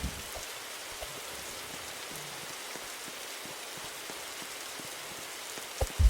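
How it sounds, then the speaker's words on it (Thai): Steady rain falling outdoors in a forest, a dense even patter throughout at moderate level, with a couple of louder close knocks at the very end. "เริ่มมีฝนตกและฟ้าร้อง"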